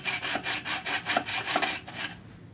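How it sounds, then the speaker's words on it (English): A hand saw cuts a slot into a BMW E46 subframe bushing with a steady rhythm of about nine quick back-and-forth strokes, close and loud, with no voices. "I'm just going to cut this little slot right here"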